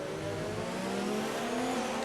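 Race cars roar around the USA Grand Prix circuit in a PS4 racing game, engines droning steadily with rising pitch and a touch of tire squeal, continuous and fairly close with no talk.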